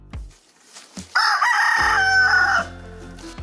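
A rooster crows once, loud and close, a long sustained cock-a-doodle-doo preceded by a few short clucks and followed by quieter farmyard sounds.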